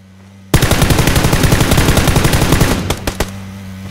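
Opponents' gunfire in a video game, a sudden loud burst of rapid automatic shots lasting about two seconds, then a few trailing single shots fading off, with no talk.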